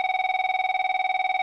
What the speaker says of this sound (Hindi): फोन उठाओ, वो तुम्हारे लिए है।